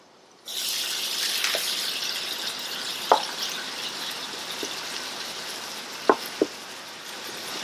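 Ground meat frying in a pan for tacos, a steady close sizzle that runs throughout, broken by a few sharp clicks and taps from the pan.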